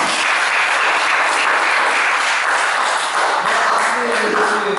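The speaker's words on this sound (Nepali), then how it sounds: "ताली बजाउँ परमेश्वरलाई।" A church congregation claps together for God during a Nepali sermon, a dense, steady wash of applause filling the whole stretch at close, loud level, with a faint tone near the end.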